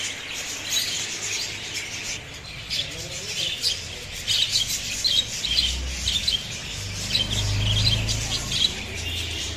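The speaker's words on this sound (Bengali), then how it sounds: "এই যে দেখুন বাজারিকা পাখি।" Budgerigars in a pet shop keep up a busy chatter of close, bright chirps and squawks in quick irregular bursts, with some low handling or shuffling noise underneath.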